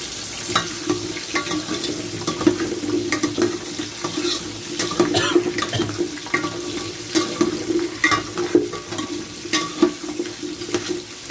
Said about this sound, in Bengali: এই তরকারিগুলো যেগুলো আমি ফুটে রেখেছিলাম সেগুলো দেবো। তেল গরম হয়ে গেছে।